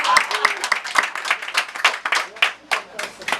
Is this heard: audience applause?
yes